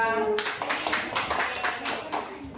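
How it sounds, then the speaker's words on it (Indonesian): Students in a coding class clap together in a steady run of sharp hand claps that fills the room, with voices mixed in beneath the clapping. "Beri tepuk tangan."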